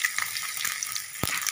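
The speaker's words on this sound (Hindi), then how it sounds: "अभी हम साफ प्याज भी ऐड करने लगे।" Onions fry in a karahi for chicken karahi, a dense crackling sizzle close up with a sharp knock of a utensil near the end.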